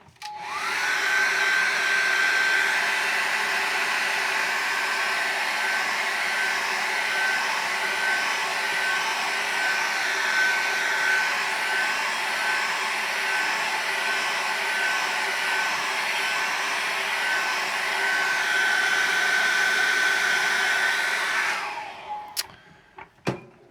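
A hair dryer blows steadily and loudly up close for about twenty seconds, drying acrylic paint on a woodland snow painting, then switches off with a falling whine and a couple of clicks.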